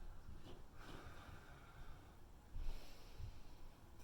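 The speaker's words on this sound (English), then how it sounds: "Exhaling and inhaling as we flow." Breath is drawn in and pushed out through the nose during a Pilates exercise, making soft, airy, slightly snorting puffs that sound close but quiet, with no speech.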